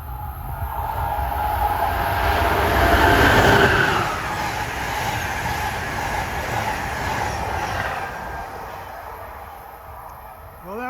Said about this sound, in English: that was Amtrak 80, the Carolinian, from Charlotte, North Carolina to New York